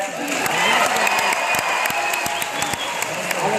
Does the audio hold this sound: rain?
no